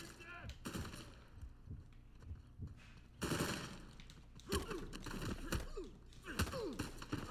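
Gunfire in the video game Uncharted 4, sharp rapid shots and bursts crackling in quick succession with louder volleys later, alongside game action noise.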